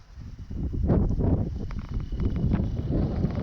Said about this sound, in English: quite a little bit windy this morning as we're out on our walk